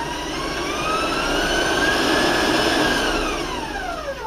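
An electric mixer beats granulated sugar into butter in a bowl, a steady high whirring drone that swells slightly in pitch and loudness, heard alone.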